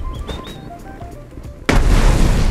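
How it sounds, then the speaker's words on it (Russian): A loud in-game explosion from the survival game Mist Survival erupts suddenly after a stretch of quieter game sounds and short tonal chimes, then a broad roaring blast sustains to the end. "Но прикольно, вообще взрыв, эффект взрыва охеренный."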